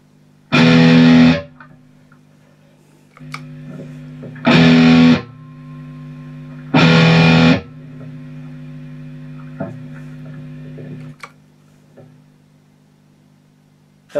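Electric guitar through a distortion pedal plays three short, loud buzzing bursts, each about a second long, with a steady mains hum and noise sustaining between the strikes.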